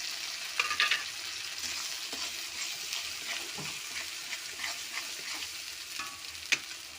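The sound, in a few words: frying spice paste with tomatoes in a pan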